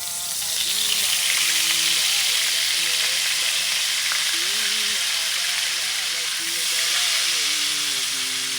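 Butter melting in a pan for a vodka pasta sauce gives a continuous bright sizzle and hiss up close, while a person talks quietly beneath it.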